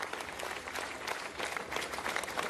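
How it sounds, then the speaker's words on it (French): A crowd gathered outside the town hall in Cannes applauds in support of mayors, producing steady, dense clapping heard from a distance throughout. "Ça applaudit à Cannes, les images que vous voyez en direct"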